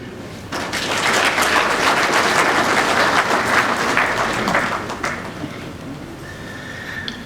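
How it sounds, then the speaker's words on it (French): Loud, sustained applause from an audience at the opening ceremony of the Africa Infrastructure Forum 2023 in Ouagadougou, Burkina Faso, swelling quickly and holding steady for several seconds before thinning out near the end. "Des applaudissements pour accompagner le président de la délégation spéciale de la ville de Ouagadougou"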